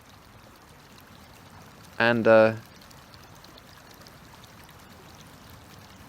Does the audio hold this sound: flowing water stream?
yes